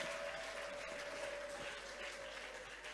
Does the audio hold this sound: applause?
yes